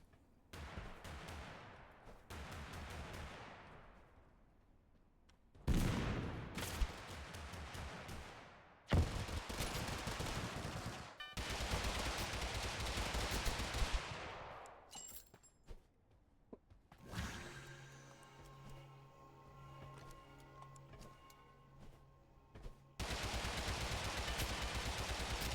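Gunfire in the video game Totally Accurate Battlegrounds: loud bursts of rapid automatic shots and single cracks in separate volleys, broken by short silences, with a whooshing, ringing stretch near the end.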